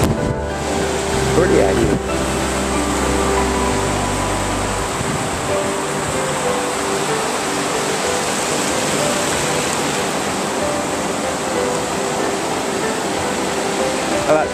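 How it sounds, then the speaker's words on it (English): Ocean waves on the beach at Folly Beach, South Carolina, a steady broad wash of surf with a low rumble early on and someone speaking briefly over it. "You have the waves in the background?"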